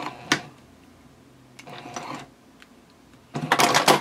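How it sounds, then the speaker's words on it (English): A sewing machine stitches a cork fabric cardholder wallet, running in three short bursts: a quick one, a longer one and a final louder run. Quiet pauses separate the bursts, and no one speaks. "I'll take a few stitches over my original stitching, and then I'll back stitch about 3 stitches"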